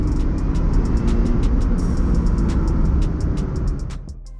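A 1991 Dodge Stealth R/T twin turbo is driven hard through corners, giving a loud, continuous engine and road roar that holds steady and then fades near the end.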